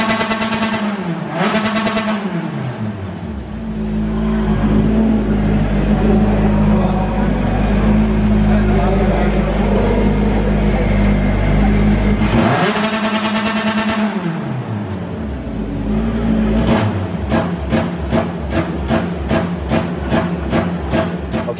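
British Touring Car Championship race car, revved hard up to full revs from a few feet away, very loud with rising and falling engine sweeps, then a rapid staccato of bangs at the end.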